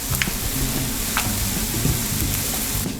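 Corn tortillas heat in a pan for chorizo tacos, sending up a steady, loud, close sizzle that holds evenly throughout with no talk.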